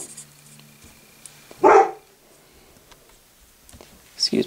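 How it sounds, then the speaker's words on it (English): A pet dog gives one short, loud bark partway through, interrupting a quiet math lesson indoors, with faint background noise before and after. "Excuse me, that was my dog."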